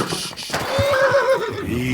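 A horse in Kingdom Come: Deliverance II gives a loud, close whinny with a rising and falling pitch, over soft hoof shuffles and background game sounds.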